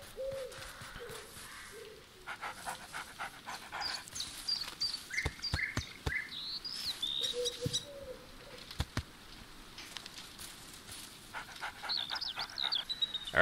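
A dog in the video game A Plague Tale: Innocence pants in short bursts, quiet and close, over an outdoor ambience of chirping birds and cooing calls.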